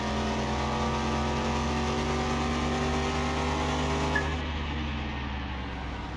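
A Chevrolet Nova SS drag car in Car Mechanic Simulator 21 races with its engine droning loud and steady at high revs, the tone holding and then easing slightly near the end.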